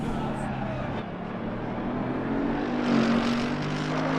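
A Mercedes AMG GT with a V8 engine growls steadily in an e-racing video game on a circuit, a continuous, fairly loud drone with a slight swell near the end.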